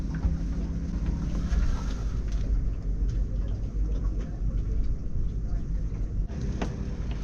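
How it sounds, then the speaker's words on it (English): A dinghy's outboard engine runs with a fault, giving a steady low rumble with wind buffeting the microphone throughout, close and continuous for several seconds. "Something wrong with our engine."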